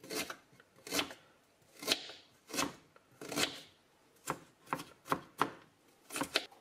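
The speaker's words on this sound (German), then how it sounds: "So, ich habe noch ein bisschen frischer Ingwer. Das mache ich auch dran. Wird alles klein geschnitten." Fresh ginger is chopped finely with a knife on a board for homemade poultry bratwurst: a close series of about a dozen crisp, irregular knife chops, quiet between strikes.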